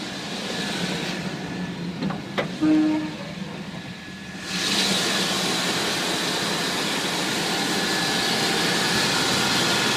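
A Chevrolet Silverado pickup truck's engine runs smoothly, a steady broadband rumble and hiss that grows louder and fuller midway after a brief quieter stretch, with a faint tick or tone near the start.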